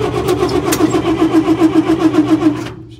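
A 1953 Dodge M43 Power Wagon ambulance engine cranks on the starter in a fast, even, loud chugging rhythm for about two and a half seconds without catching, then stops abruptly.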